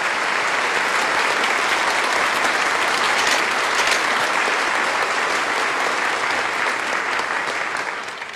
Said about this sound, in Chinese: 朋友们，掌声有请。